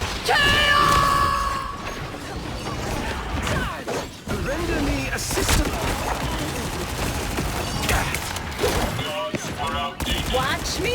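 A shooter video game runs at maximum settings while rapid gunfire bursts, mechanical clatter and crashes fill the mix continuously and loudly, with occasional chirping effects layered on top.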